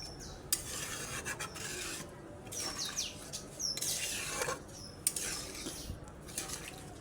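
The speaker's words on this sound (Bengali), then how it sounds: "দিয়ে ভালো করে নেড়ে চেড়ে নেব" Curry with added broth is stirred in a pan, a quiet, uneven scraping and rubbing that comes in short strokes, with faint bird chirps in the background and no speech.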